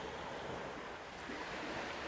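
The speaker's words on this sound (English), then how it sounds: "every day that I can hear the sound of the sea" Sea waves wash in a faint, steady broadband surf hiss with light wind noise, continuous and distant, with no voices.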